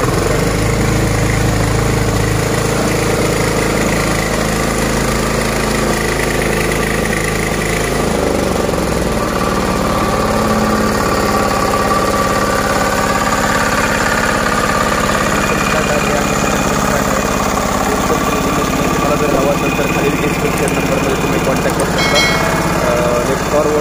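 A Bhim 12 HP battery-start power tiller engine runs loud and close, a continuous rough rumble that shifts pitch partway through, with a voice talking over it.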